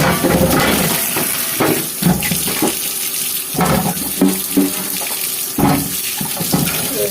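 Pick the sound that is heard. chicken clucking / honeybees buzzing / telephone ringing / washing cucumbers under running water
washing cucumbers under running water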